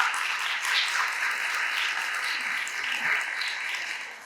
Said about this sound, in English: Can we give a round of applause for our judge?